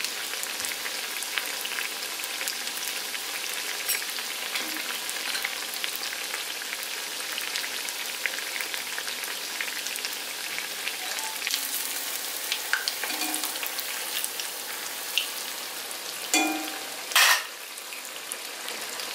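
Unniyappam fry in oil over a low flame, giving a steady, even sizzle throughout with a few soft clinks near the end and no talking.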